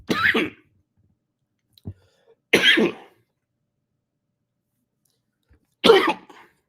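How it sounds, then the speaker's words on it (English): Three separate coughs, sharp and close, spaced a few seconds apart with silence between them. "my mouth is dry, but coughing."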